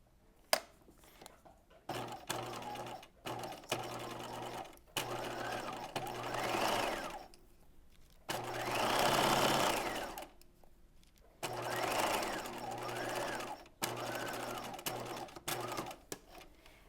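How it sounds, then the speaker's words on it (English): A sewing machine runs a narrow zigzag seam at 5/8 inch along a garment's short end, whirring in repeated bursts of a few seconds each, with brief pauses and handling clicks between runs. "we're going to sew along this shorter end. So you can use your narrow zigzag again here"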